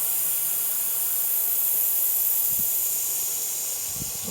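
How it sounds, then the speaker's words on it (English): Compressed air hisses steadily out of a pneumatic triple-bag air jack as its red release lever is turned, a loud, broad, continuous rush with a couple of faint low thumps near the end. "you can just release the pressure nice and gently by turning the red lever"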